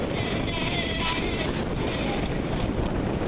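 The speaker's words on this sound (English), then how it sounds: "There's some wave action." Continuous rush of ocean water and waves hitting the side of a moving boat broadside, with strong wind buffeting the microphone throughout.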